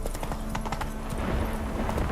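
Roach, the horse in The Witcher 3, gallops with fast, loud clip-clop hoofbeats in a steady rhythm, close by and continuous throughout.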